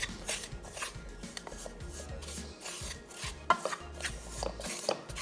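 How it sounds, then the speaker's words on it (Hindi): A spoon mashing cooked qeema and kaleji in a pot, giving a steady run of soft scraping, rubbing strokes close by, with occasional small clinks of metal against the vessel and no talking. "इस तरीके से इसको मैश कर लेंगे।"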